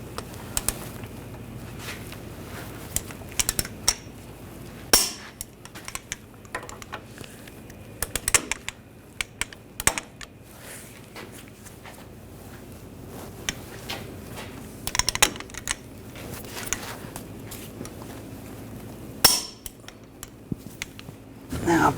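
Sharp clicks from a torque wrench tightening the front lower ball joint bolts to 170 foot-pounds on a 2014–2018 GMC Sierra 1500, scattered at irregular intervals over a dull workshop background.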